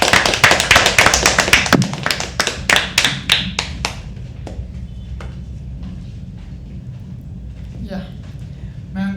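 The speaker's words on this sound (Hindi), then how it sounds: "तालियां बजती रहनी चाहिए. तालियां तालियां तालियां" An audience at a live poetry open mic applauds to welcome a poet, with dense clapping at first that thins into scattered individual claps and fades to near quiet, followed by a brief renewed clap near the end.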